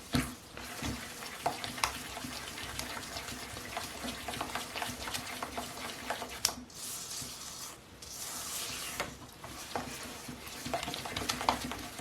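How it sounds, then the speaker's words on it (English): Colorant is stirred into oil for a homemade body polish, with steady scraping and swirling against the container running through the whole stretch, fairly close and with no talking. "now I'll just keep stirring these every once in a while until I get to that state where it's no longer separating anymore"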